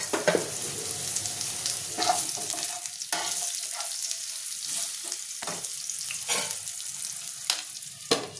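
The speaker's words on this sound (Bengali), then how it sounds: "এবার আলুটা ভেজে নেব।" Salted potatoes frying in a pan, a steady close sizzle with periodic sharp scrapes and clinks of a spatula stirring, no talk over it.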